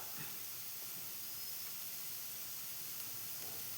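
Onions sautéing in a pan for paneer masala give off a soft, continuous hiss and sizzle, faint and even throughout, with no talking.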